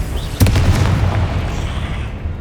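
A Confringo fire spell exploding in the Hogwarts Legacy video game: one sharp, loud blast followed by a rumbling, crackling burst that fades away over about two seconds.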